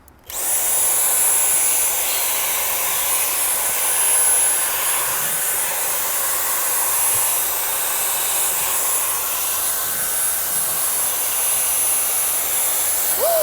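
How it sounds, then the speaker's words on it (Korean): A Dyson V7 Fluffy cordless vacuum cleaner, freshly unboxed, switches on with a sudden high-pitched whine and runs steadily and loudly close by, cleaning dusty edges, then cuts out at the end. "근데 이제 다이슨 청소기를 가지고 한번 빨아먹어 보겠습니다"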